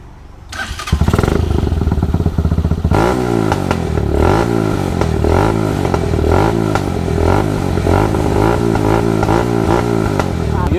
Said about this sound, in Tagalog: Yung tunog ng naka-racing carb.